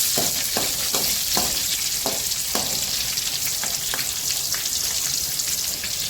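Green chillies and sesame seeds frying in about three tablespoons of hot oil for khaman, giving a continuous close sizzle with a few sharp spattering pops early on.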